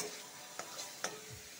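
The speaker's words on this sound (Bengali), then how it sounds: "আলুর সাথে মশলাটা ভালো করে ভাজা হয়ে গেছে" Potatoes frying with spices such as cumin, coriander powder and green chili paste in a pan, with a faint low sizzle and a couple of soft scraping stir strokes.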